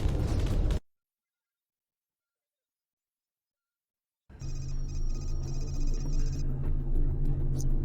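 Heavy explosions as the Order's battleship is destroyed in the space game Freelancer: loud, dense bursts, a long stretch of silence, then sustained rumbling blasts with steady electronic tones above them.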